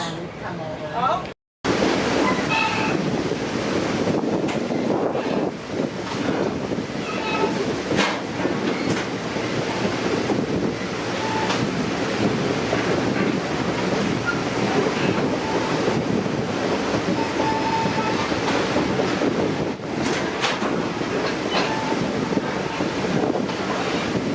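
A 1940 vintage train rolls along the Hiwassee River scenic railroad, heard from the rear car as a steady rumble of wheels and wagon rattle mixed with heavy wind buffeting, while people talk and call out over it.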